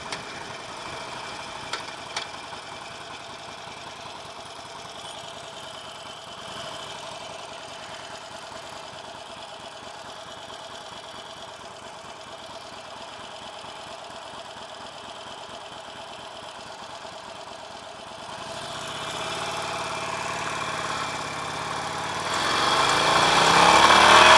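A Harley-Davidson Nightster 1200 motorcycle engine runs steadily close by, with a mechanical rattle under its even drone. The engine swells louder toward the end, no voices.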